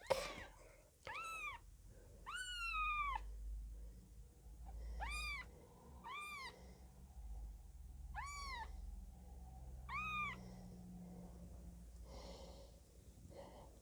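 A Birman kitten gives a series of high, plaintive meows, about six spaced calls, with soft breathing and snuffling between them, close and fairly quiet.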